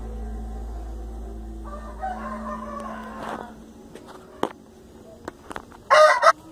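A rooster crows at a farm in São José dos Pinhais, one loud clear crow near the end after a quieter stretch with some faint clucking and scattered knocks.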